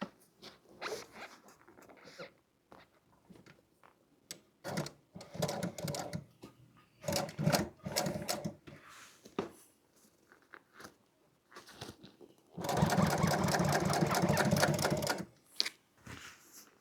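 A sewing machine stitching an upholstery seat insert. Short bursts of rapid mechanical stitching stop and start, with a longer, louder continuous run near the end, close up.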